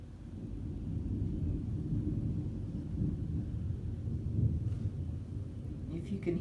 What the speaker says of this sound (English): If you can hear that, it is storming outside.